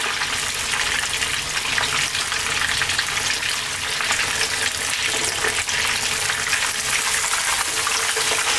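Whole fish frying in hot oil in a pan, a constant loud crackling sizzle with dense popping spatter, continuous and close, with no voices.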